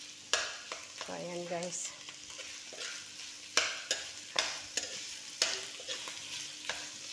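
Chicken frying in a pan for fried rice with hotdogs, heavy with garlic; a steady sizzle with repeated scraping stirs of a utensil, close and moderately loud, with a brief spoken remark over it.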